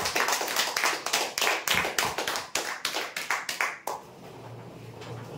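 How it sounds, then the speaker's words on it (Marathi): A small audience applauds prize winners at a weekly lucky draw event, a crisp run of claps that swells in uneven bursts for about four seconds, then stops abruptly into quiet room tone. "हे विजेते आहेत 3x6 बेड साठी, जोरदार टाळ्या होण्यासाठी"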